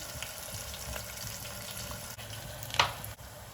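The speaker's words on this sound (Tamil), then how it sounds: "நல்லா கொஞ்சம் பொரியுட்டுங்க. வெங்காயம் நல்லா ப்ரௌனிஷ் கலரில் வரட்டும்." Onions frying in a pan for a bottle gourd tamarind curry, a steady soft sizzle running close throughout, with one brief brighter crackle near the end and no voices.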